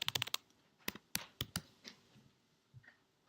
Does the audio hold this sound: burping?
no